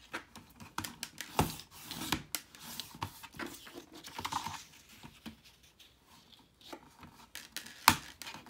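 Scissors snipping through Happy Planner paper with a 4th of July theme, in a run of short, close crisp cuts and light paper rustles, with sharper snips standing out.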